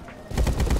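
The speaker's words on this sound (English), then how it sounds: "now we got the nail gun" Nail gun fired in the video game Rust, a rapid string of sharp, punchy shots that start after a brief quiet moment and repeat in a fast, steady rhythm, loud and close.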